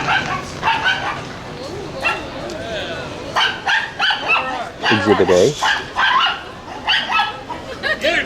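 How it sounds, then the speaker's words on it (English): A small puppy barks and yips excitedly at another dog at an outdoor flea market, the sharp barks repeating in quick bursts close by while people talk throughout. "The little puppy dog is kind of freaking out over another dog."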